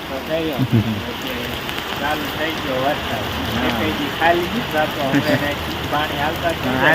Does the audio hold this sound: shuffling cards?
no